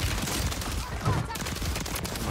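Gunfire in a video game, a dense rattle of rapid shots close and loud throughout, mixed with faint game noise and low muffled voices.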